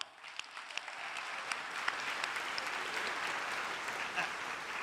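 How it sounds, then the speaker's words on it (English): Audience applause at a tech conference keynote, a sustained wash of many hands clapping at moderate distance, beginning with a few scattered claps and swelling into a steady ovation. "Let's give him a round of applause."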